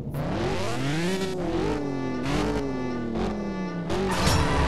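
A race car in the mobile drag racing game CSR 2, a Ferrari or Shelby, launches off the line with a loud, close engine revving up through several quick gear shifts, each climb in pitch broken by a short dip.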